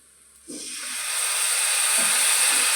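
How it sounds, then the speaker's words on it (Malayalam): Jaggery syrup is poured into a hot pan of fried coconut, cashews and raisins and sets off a steady, rising steam hiss. It swells quickly and holds, with faint soft knocks from the pan and no talking. "ഞാനിവിടെ ശർക്കര പാനിയാണ് ഒഴിച്ചു കൊടുക്കുന്നത്"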